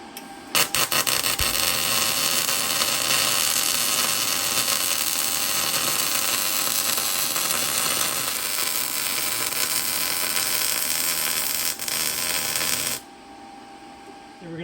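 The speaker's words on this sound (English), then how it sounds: "pop some welds all around there" Steady, loud crackling buzz of welding on a steel rear bumper for a 1995 second-generation Toyota 4Runner, continuous for about twelve seconds before cutting off sharply.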